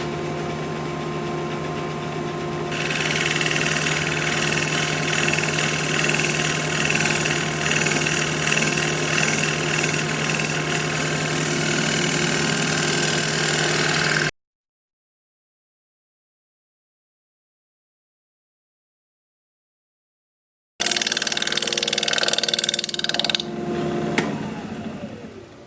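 A wood lathe spins a Russian olive live-edge bowl at 1200 RPM, giving a loud, steady motor hum with a bright, dense whir of cutting noise that runs continuously apart from one gap in the middle.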